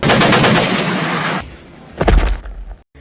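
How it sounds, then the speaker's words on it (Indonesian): Loud gunfire in an Indonesian historical film: a dense rapid burst of automatic shots, then after a short gap a couple of heavier booming shots before sudden silence. "Kenapa Ade ditembak?"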